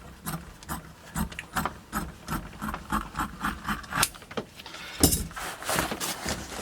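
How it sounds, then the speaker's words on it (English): Ottoman lid material is cut out by hand in repeated rhythmic strokes, a scratchy rasping sound close by with an even pulse and a sharper snap near the end. "I'm just going to mark it twice and then just cut this out"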